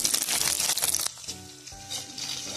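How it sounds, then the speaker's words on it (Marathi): Cauliflower florets frying in hot oil for a vegetable dum biryani give a loud, dense sizzle that drops to a quieter, steady crackle partway through. "फुलकोबी फ्राय करून घेऊ।"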